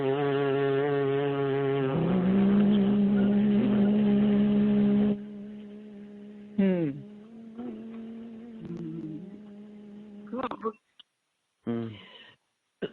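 A voice buzzes through the lips while humming at once, imitating a French horn chord: a sustained buzzy multi-tone drone for a few seconds, then shorter broken bursts with a pause before the end.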